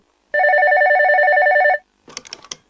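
A telephone rings in one continuous warbling burst of about a second and a half, loud and close, followed by brief rustling handling noises.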